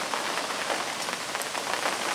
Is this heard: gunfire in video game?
no